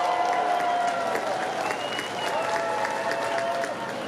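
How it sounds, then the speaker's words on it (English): An audience claps steadily at a rail fleet retirement ceremony, producing a dense, even wash of applause that holds for several seconds. "we all owe a debt of thanks and a round of applause here for Alicia Trost"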